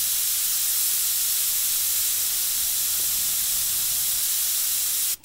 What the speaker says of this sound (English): what I like to do is flush it by spraying it wide open off of what I'm working on